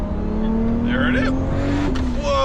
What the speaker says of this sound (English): I told you that turbo, big turbo. Once it spools, it goes.